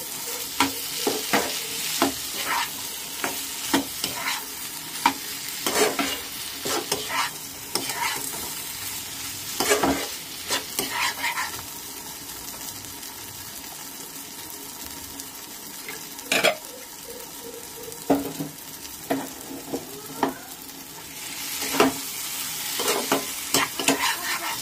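Fried potatoes are stirred with spices in a pan for a banana-flower and prawn ghonto, a continuous close sizzle broken by repeated sharp scrapes and clinks of a spatula against metal, no voices.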